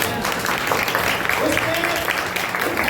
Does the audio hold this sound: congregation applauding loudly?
yes